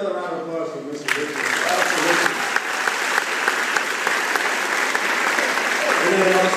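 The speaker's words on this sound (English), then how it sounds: "Can we get another round of applause for Mr. Richard?" Sustained applause from a college class audience at Penn State, dense and loud, rising suddenly after a brief moment of talk and continuing steadily to the end.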